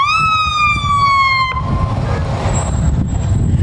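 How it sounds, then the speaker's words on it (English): A loud fire truck siren wails steadily and then drops off, with heavy engine rumble and road noise beneath and a fainter siren tone after. "We'll let the people hear the sirens."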